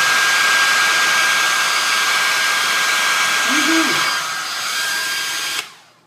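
A hair dryer blows steadily and loudly over a cup of ice water for several seconds, its broadband whoosh holding constant before dipping slightly and cutting off near the end, with a brief low clink partway through.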